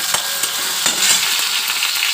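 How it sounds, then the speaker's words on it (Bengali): Potatoes fry in hot oil in a wok, a loud, bright crackling sizzle with irregular pops and stirring scrapes, close up and without any voices. "এবার এই তেলটাতে আলুগুলো আমি দিয়ে দেবো।"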